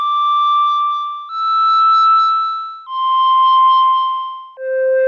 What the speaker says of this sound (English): That's pretty good flute.